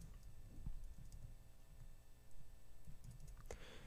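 Faint, scattered clicks of keys pressed on a computer keyboard during 3D design work in Cinema 4D, quiet irregular taps over a low background hum.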